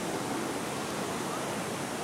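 Gentle stream water flowing over rounded rocks and sand in a shallow forest creek at Erawan National Park, a steady broadband rushing wash that holds even and close throughout, with no voices.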